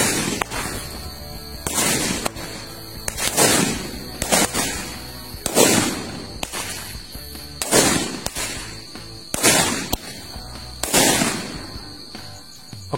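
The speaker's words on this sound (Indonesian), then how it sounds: "itu dia merconnya tadi" New Year firecrackers go off outdoors in a run of about eight loud, sharp bangs spaced a second or two apart, each with a crackling tail, over a steady background hum.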